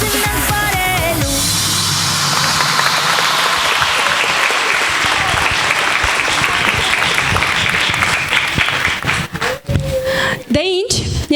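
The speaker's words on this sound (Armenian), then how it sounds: "եկեք եւս մեկ անգամ բարձր ծափահարենք մեր տաղանդավոր փոքրիկներին" An audience applauds child singers at a vocal studio concert. Loud, dense clapping fills most of the clip after a short sung ending, then thins out toward the close.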